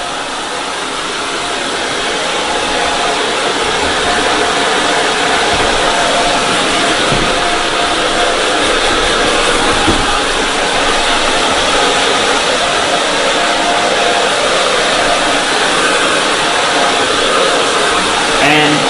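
A hair dryer blows a strong, continuous airstream at close range while wrapped hair is being dried, making a loud, steady broadband roar that holds unchanged for the whole stretch with no voices.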